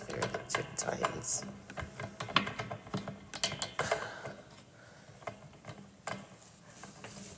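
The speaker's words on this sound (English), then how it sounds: "you just keep screwing it and screwing it and screwing it and screwing it two times" Plastic parts click and ratchet in quick irregular bursts as a part is screwed back on by hand, close and fairly quiet.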